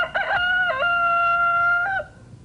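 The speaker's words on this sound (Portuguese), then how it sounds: "Quando o galo começa a cantar no estado do Acre, anunciando um novo dia" A rooster crows once, loud and close: a few short rising notes, then a long sustained cock-a-doodle-doo call that ends abruptly.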